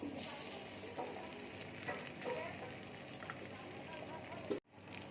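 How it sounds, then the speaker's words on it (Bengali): Paneer fries in hot oil for keema, a close, continuous sizzle with a few crackling bursts and brief stirring sounds, cutting off abruptly near the end. "তেল দেখো গরম হয়ে গেছে, এবার আমি পনিরটা দিয়ে দিচ্ছি।"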